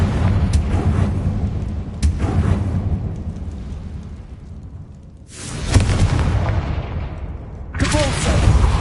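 Repeated Confringo fire spell blasts in Hogwarts Legacy: several loud, close explosive booms land a couple of seconds apart, each followed by a rumbling tail that fades before the next hit.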